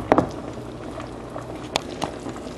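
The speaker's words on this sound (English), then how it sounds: "Let it boil again for another 5 minutes before putting your okra" Okra soup with meat boiling in a pot for Cameroonian okra soup with gari, a steady low bubbling with a few sharper pops and clinks, moderately close and alone.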